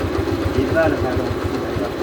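A motorcycle engine idles close by with a steady, even pulsing putter that holds a constant level throughout.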